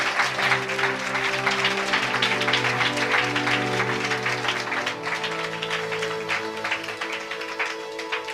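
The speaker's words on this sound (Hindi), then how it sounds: "Come on, clap your hands and praise the Lord." A church congregation claps hands in praise during a worship service, steady rhythmic clapping over sustained musical tones, loud and continuous throughout.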